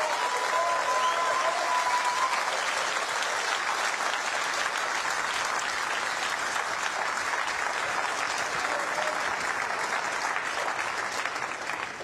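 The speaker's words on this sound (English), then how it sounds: "Another round of applause for both players" Sustained audience applause in a snooker arena at the end of the Tour Championship final in Hull, dense and steady from start to finish, with faint crowd murmur and no clear speech.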